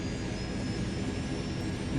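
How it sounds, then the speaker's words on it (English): Steady, loud engine drone from an aircraft in the video game Tribes: Vengeance, a continuous broadband roar with a faint high whine, unbroken and close throughout with no talk. "Now we have a plane of our own."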